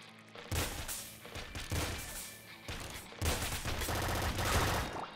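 Rapid bursts of gunfire from bats in the video game Nuclear Throne, several dense volleys of shots clattering in quick succession with short gaps between them, loud and close with no voices over them.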